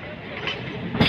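Steady rumble and rattle inside a moving passenger train near Khordha in Odisha, heard from within the carriage at moderate loudness, with a faint voice in the background.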